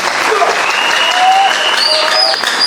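An audience at a speech ceremony for the ZABA festival breaks into dense, sustained applause, loud and close, with a few whistles rising over the clapping.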